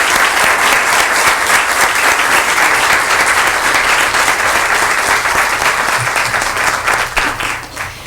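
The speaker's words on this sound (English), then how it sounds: "Please join us in a round of applause." A school board candidates' forum audience gives the candidates a sustained, dense round of applause, loud and steady throughout before tapering slightly near the end.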